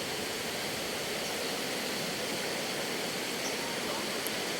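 Steady rush of a clear, shallow stream at a riverside picnic and bathing spot where children swim, continuous broadband water noise filling the whole stretch without a break.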